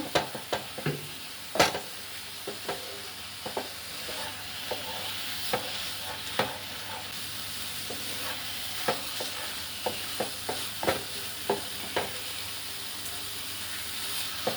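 Thickened milk stirred into a ghee mixture in a pan while making cabbage sandesh, giving a soft steady sizzle broken by frequent light scrapes and taps of the spoon, close and moderately quiet.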